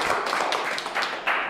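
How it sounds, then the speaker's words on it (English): Applause from a live audience at a public-speaking coaching session, a steady patter of many hands clapping at moderate distance, holding level for a second and a half with no talk over it. "Give him a round of applause, please."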